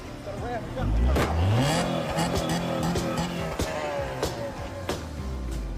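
A car engine running and revving, climbing through a loud rising rev early and then idling roughly with sharp knocks and clatter, while people shout over it.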